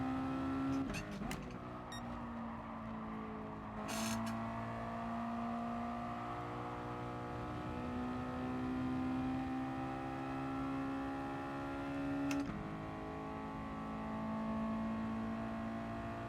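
Race car engine in the Gran Turismo video game holding a steady, continuous drone over about sixteen seconds, with a few brief pitch shifts and gear changes, heard alone and fairly quiet.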